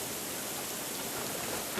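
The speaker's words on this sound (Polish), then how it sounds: "A tutaj co? Deszcz." Rain falling in a forest during an approaching storm, a dense, even hiss of drops on leaves and ground, steady and close, with no voices.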